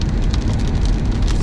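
Hail pours down from a supercell thunderstorm on a highway during a storm chase, a loud dense hiss of rapid impacts drumming steadily on a vehicle with no pause, and no voices.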